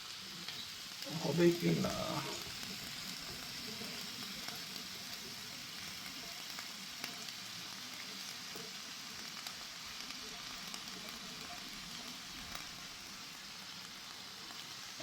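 Potatoes and cauliflower fry in a pan with a low, steady sizzle, a clatter of stirring early on, and a few quiet spoken words.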